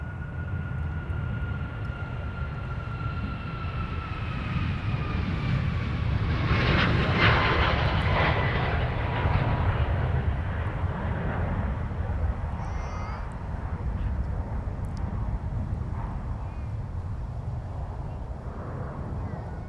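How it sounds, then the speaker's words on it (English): An Icelandair airliner bound for Reykjavik takes off from Minneapolis–Saint Paul airport, a loud, steady jet engine roar heard from a distance that swells in the middle and holds on throughout, with no voices over it. "here's Iceland Air getting back into the air for Reykjavik"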